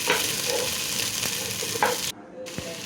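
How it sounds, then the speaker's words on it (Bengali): Sliced onions crackle and hiss loudly in hot oil while a utensil scrapes and stirs them, with a few sharp knocks against the pan and a brief drop-out near the end. "এখন গরম তেলের মধ্যে কাটা পেঁয়াজ দিয়ে দিচ্ছি।"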